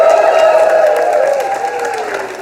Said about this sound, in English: we get one more round of applause for Lisa,